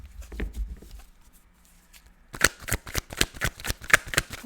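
A tarot deck shuffled by hand: a few soft riffles, then a quiet pause, then a brisk run of rapid card snaps and flutters, close and fairly quiet.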